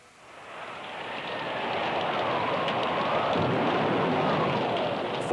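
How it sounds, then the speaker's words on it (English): A storm at sea striking a small sailing vessel: heavy rain pours in, swelling from quiet to a loud, dense, steady roar, with low rumbling thunder underneath. "4 days out, a devastating storm hit the little vessel."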